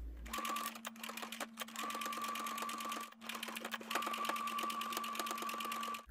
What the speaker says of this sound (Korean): 끝까지 박고 대박음질 한번 하겠습니다